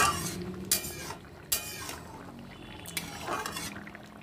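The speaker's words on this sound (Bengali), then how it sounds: "আলুগুলোকে আমি একটু গালিয়ে দিচ্ছি।" Potatoes being mashed with a spoon in a thick, simmering pea and potato curry, with several sharp metallic clinks against the pot between softer squelching stirs, close by.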